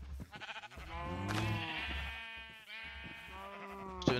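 Minecraft sheep bleat repeatedly on a survival farm, wavering, nasal calls overlapping one another in a steady, fairly loud run with no talk.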